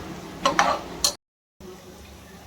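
Onions sautéed in a pan for mutton head curry, a few sharp spatula scrapes and clinks over a light sizzle, close by, then a brief dead gap before a quieter steady sizzle resumes.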